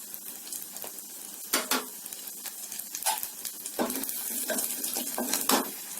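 Mustard seeds, cumin, hing and a dry red chilli sizzle in hot oil and ghee for a potato and raw mango palya. The crackling bursts and spitting rise over a steady hiss, with occasional stirring clinks.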